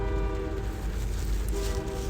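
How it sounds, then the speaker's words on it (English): A train sounds its horn in the background, a sustained tonal blare over a low rolling rumble of rail cars, fading briefly and then returning. "Hey, there's a train in the background."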